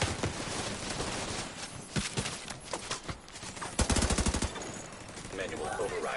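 Automatic gunfire in The Division 2 video game, with sustained bursts of rapid shots and a distinct hard-hitting rattling volley near the middle, set against busy game ambience.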